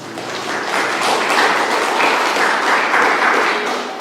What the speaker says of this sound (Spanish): Vamos a dar fuertes aplausos a Daniel González Rosales.